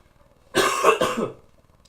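One close, harsh cough in two quick pulses breaks the silence, fading out quickly.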